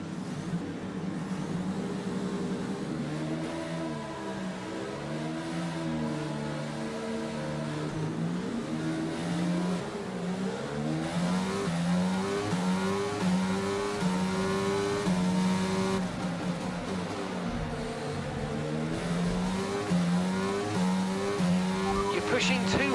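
Race car engines in a racing game at a race start, several engines rising and falling in pitch as they rev and accelerate off the line, loud and continuous throughout.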